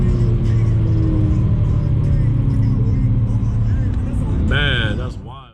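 Bagged V8 BMW M3 pulling hard through the gears, a loud, steady close engine drone with rising whine that fades at the end as a voice briefly speaks over it.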